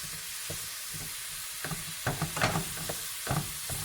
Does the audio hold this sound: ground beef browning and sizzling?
yes